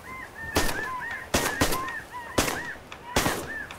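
Wild geese honk repeatedly in the open air of a Hudson Bay goose hunt as a flock flies in, broken by four loud, sharp shotgun blasts spaced about a second apart.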